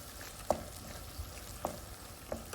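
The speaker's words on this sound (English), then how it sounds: "So this paste now is getting cooked with onion" A ground spice paste of poppy seed, cinnamon, ginger and garlic frying with onion in a pan, a low steady sizzle with a few sharp stirring clicks, quiet and close, no talk.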